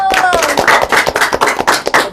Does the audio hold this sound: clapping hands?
yes